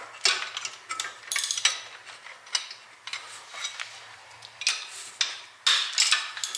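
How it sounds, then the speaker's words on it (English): A hand tool loosening bolts on engine mounts: repeated bursts of bright metallic clicking and rasping strokes in an uneven rhythm, close and moderately loud, with no talk. "one more, I think, to get all the bolts loose"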